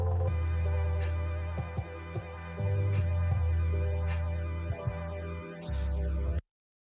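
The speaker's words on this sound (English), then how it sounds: "So you hear that bass slowly creep in with that low end" A song's low end and bass line fading in slowly beneath a steady, full music mix, with sustained low tones building under harmonic layers before cutting off abruptly at the end; no talking.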